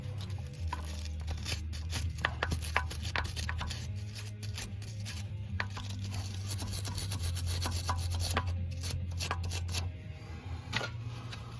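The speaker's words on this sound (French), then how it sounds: "on n'hésite pas à nettoyer avant de réinstaller. Donc on va nettoyer tout ça." A BMW 130i E87 suspension arm being cleaned before reinstallation gives a steady, close scratchy rubbing with dense rapid strokes, running continuously and fairly loud.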